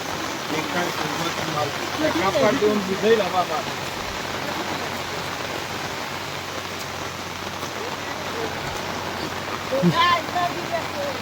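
A river in full flood rushes past a farm with a broad, steady roar of water, swelling at moments, while a voice talks over it.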